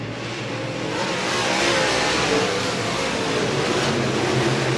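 Dirt-track race cars on the opening lap of a last chance qualifier at Berlin roar as one continuous, dense engine wash, with no clear breaks from start to finish.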